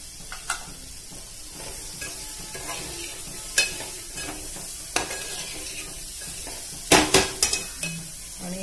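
Peanut curry masala simmers in a pan with a soft steady sizzle, broken by scattered scrapes and clinks of a spoon stirring against the metal, with a cluster of louder knocks near the end.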